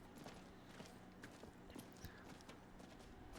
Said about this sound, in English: Get my horse out, and I can ride down there